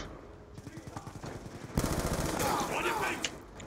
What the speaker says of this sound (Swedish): Fick ju knappt iväg några skott där.